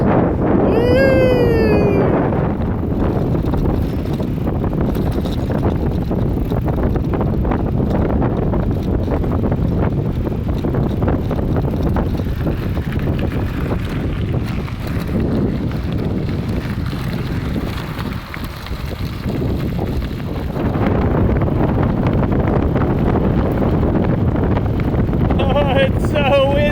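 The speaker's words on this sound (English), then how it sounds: "It's so windy." Strong wind roars and buffets the microphone during a bike ride beside crashing ocean waves at Point Homes. The rumble is loud and nearly constant, and brief voices and cheers break in at the start and end.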